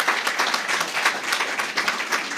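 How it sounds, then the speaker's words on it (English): A school honour roll recognition ceremony audience gives a lively round of applause, dense overlapping hand claps at close range, steady and unbroken, with no talk. "You guys really need another round of applause."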